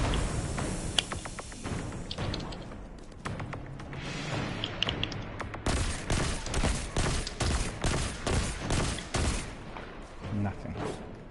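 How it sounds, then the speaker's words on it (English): Shots ring out in Destiny 2 as a player fires at vents. Scattered blasts come first, then a steady rhythmic string of repeated shots over the last few seconds, with game ambience underneath. "So I gotta shoot these vents out."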